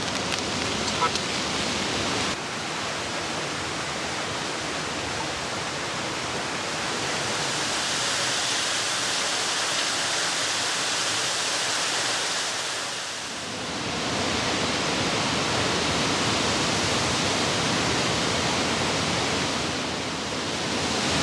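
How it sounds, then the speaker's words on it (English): Heavy rain hisses steadily all around a woodland at evening, a dense, loud wash of patter that briefly eases then returns just as strong. "there's the rain back on."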